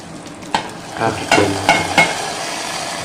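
Cumin seeds and curry leaves sizzle in hot oil in a pan as a tempering for pepper pongal, a close crackle broken by several sharp spoon-against-pan knocks and scrapes, no speech.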